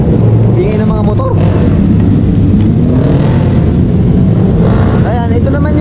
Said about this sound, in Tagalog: ingay ng mga motor.